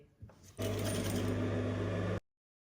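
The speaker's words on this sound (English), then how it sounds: "I'll run a stitch all the way and then leave a little space here." A sewing machine stitching satin fabric for a double bow hair clip: after a few faint clicks, the motor and needle run in a steady, fast, close whirring burst for about a second and a half, then stop abruptly.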